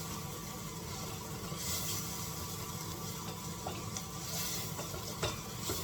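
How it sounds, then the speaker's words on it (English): A mushroom pasanda curry with garlic is stirred in a hot pan, giving a quiet, steady sizzle with soft scraping strokes, close up and without talk. "And then you stir. Stir for like 1 to 2 minutes."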